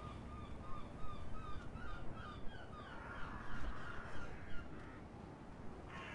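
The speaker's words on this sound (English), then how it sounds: "You can probably hear the seagulls in the distance." Seagulls call faintly in the distance at a seaside in the video game The Secret World: repeated short cries over a soft, steady ambient bed.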